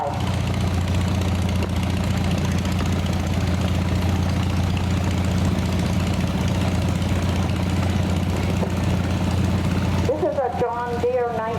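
A 1968 John Deere Model 110 garden tractor engine idles and runs steadily in an antique tractor show parade, a constant close drone, with a voice breaking in near the end.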